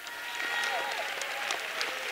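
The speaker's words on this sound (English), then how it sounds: "somebody clap your hands to Jesus" A church congregation at a Sunday service claps its hands together in a steady, even wash of applause, moderately distant and fairly quiet, with faint voices underneath.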